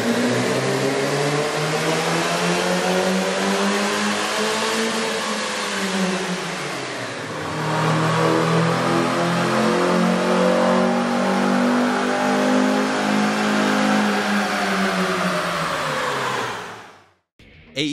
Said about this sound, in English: Here's a comparison of the car's sound on the dyno with a stock OEM system versus AEM's air